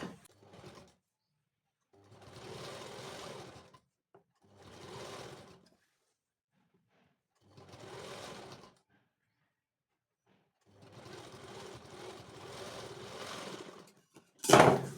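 Sewing machine stitching a kurti, running in several separate bursts of steady whirring a few seconds each with quiet gaps between, ending in a sharp clack.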